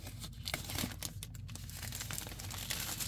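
A 2024 Bruce Lee Kaleidoscope Edition trading card pack is ripped open, with continuous close crinkling and tearing of foil wrapper throughout.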